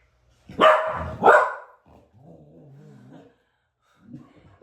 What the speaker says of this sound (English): Dogs are always barking at them.